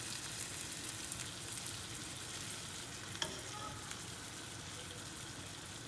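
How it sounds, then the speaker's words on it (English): Garlic frying in the juice of onions and tomatoes, a steady low sizzle with a faint clink of stirring near the middle, no voices. "So now I am gonna just fry it a little bit with the juice of the onions and the tomatoes"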